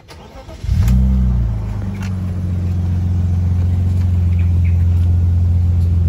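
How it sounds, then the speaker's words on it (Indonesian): A 1995 BMW 320i manual car engine cranks and starts, then settles into a steady, loud idle with a deep exhaust rumble that continues to the end. "biar kalian bisa dengar suara mesin BMW ya"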